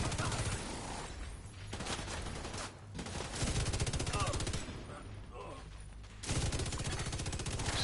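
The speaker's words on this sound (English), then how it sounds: "I guess I'll shoot him again." Heavy gunfire from The Division 2 rattles in dense, continuous automatic bursts, loud and close, with a short lull near three seconds and another break around six, broken by game machinery sounds.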